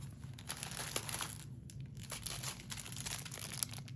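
Crinkly gift bag being opened by hand gives a run of close, crisp paper crumpling and rustling, with uneven bursts and short pauses, quiet and alone without talk.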